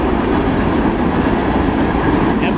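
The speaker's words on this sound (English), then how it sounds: "Yep, empty coal hoppers." Empty coal hopper train cars rolling past nearby, a loud continuous rumble and rattle of hollow steel cars on rails with a faint clickety-clack, steady throughout without talk.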